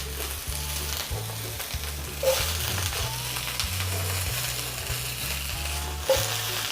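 Vegetables sauté in a hot pan, a loud continuous sizzle with a couple of brief louder bursts, over a low steady background hum.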